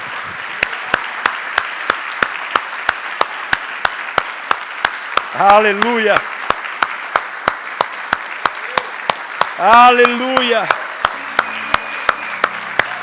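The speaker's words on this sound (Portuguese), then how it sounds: "vamos dar um aplauso ao Senhor porque Ele é digno" A church congregation applauds steadily throughout, a dense wash of clapping punctuated by sharp rhythmic claps, while a voice twice rises in sung or shouted praise over it.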